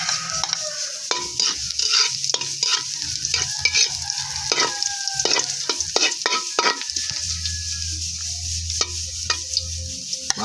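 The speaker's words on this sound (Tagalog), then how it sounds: "Simulan po natin sa paggisa." Ginger sautéing in a pan at the start of a beef bone soup, with a continuous sizzle and frequent sharp metallic clinks and scrapes of a spatula stirring, close and fairly loud, no talking.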